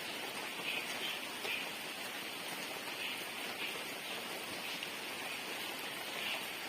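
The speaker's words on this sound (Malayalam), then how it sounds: "വീണ്ടും നല്ല മഴ തുടങ്ങി. ചെറുതായിട്ട് തുടങ്ങി വരുവാണ്." Steady rainfall in the middle of a rainy day, beginning lightly and building, a constant soft hiss of drops heard at a moderate distance with no voices over it.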